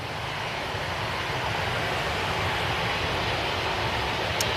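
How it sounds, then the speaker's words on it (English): A Ryanair Boeing 737 from Brussels lands at Manchester Airport, a steady distant broadband jet rumble and hiss that barely changes for a few seconds, with no talk. "That is a Ryanair 737 from Brussels."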